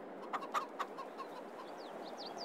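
Chickens in a farmyard in the game Farming Simulator 22, a few soft clucks near the start over a steady hum, followed by faint chirps.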